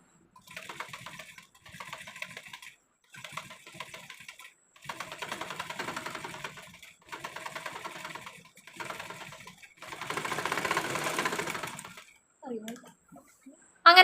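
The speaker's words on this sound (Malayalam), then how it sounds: "ഇനി നമുക്ക് നെക്ക് അങ്ങ് പതിച്ചടിച്ച് കൊടുക്കാം കേട്ടോ" A sewing machine stitches the neckline of a churidar in short repeated bursts of rapid whirring, close up, with pauses between runs and a brief handling sound near the end.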